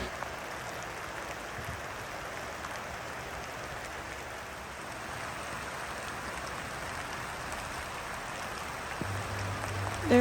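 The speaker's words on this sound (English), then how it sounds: "There is something beautiful and calming about the sound of soft rain" Steady, soft rainfall hisses evenly, with no voices, just a gentle continuous patter.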